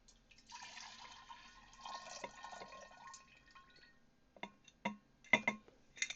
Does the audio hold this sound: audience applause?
no